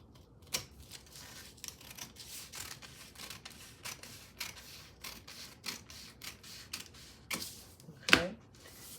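Scissors cutting a paper pattern for a yoke skirt, a close series of short crisp snips in an uneven rhythm, fairly quiet, with one louder cut near the end and no speech.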